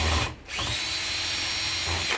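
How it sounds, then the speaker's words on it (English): A power drill whirs loudly and close, driving a double-nutted screw, with a brief dip where the motor pauses before it resumes at a steady, straining pitch. "That explains why the drill had a hard time on the one screw."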